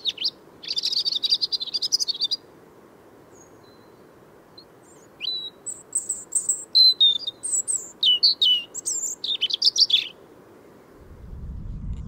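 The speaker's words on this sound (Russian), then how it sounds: "Но вот зарянка, зарянка один из таких вариантов. И она уже прилетела." A European robin sings in late March, high thin phrases and trills coming in short bursts with pauses between them, clear and fairly close against a quiet background, with a low rumble near the end.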